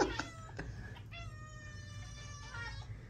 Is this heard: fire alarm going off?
no